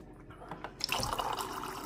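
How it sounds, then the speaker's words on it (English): Cold water runs from a countertop ice maker and hot/cold water dispenser into a cup, a steady close pour that swells after a soft start, with faint drips and splashing. "If we want to dispense cold water, I imagine I would simply switch to cold water."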